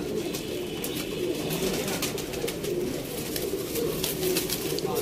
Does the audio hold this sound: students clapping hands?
no